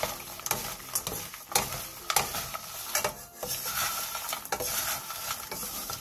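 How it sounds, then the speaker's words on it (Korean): Green chili peppers stir-fried quickly over medium-low heat in a pan with plenty of oil, a steady close sizzle broken by repeated sharp scrapes and clinks of a utensil against the pan. "팬에 기름을 넉넉하게 둘러준 뒤 고추를 넣고 중약불에서 빠르게 볶아주세요"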